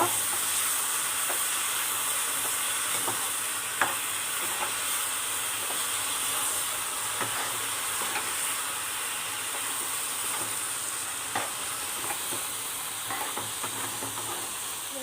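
Soaked moong dal fries in a pan with a steady broadband sizzle and hiss, scattered light clicks and scrapes of stirring, close and fairly even throughout with no talking.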